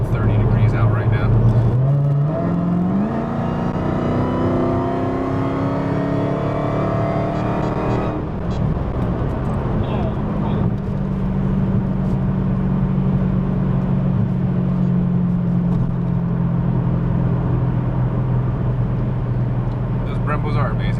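A 900 wheel-horsepower Dodge Hellcat pulls hard on a highway in cold weather, its engine note climbing steadily through the gears with a loud, continuous roar and road noise inside the cabin as people talk over it.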